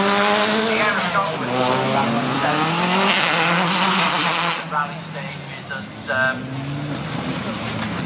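A Ford Sierra Cosworth rally car revs hard nearby and pulls away at a Race Retro rally-ride event, its engine rising through the gears and then fading into the distance.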